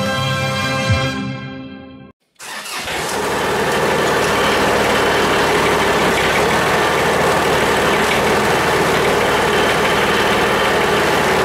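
A John Deere tractor with a front-mounted sweeper fires up after a brief hush and settles into a loud, steady idle that drones on unbroken to the end.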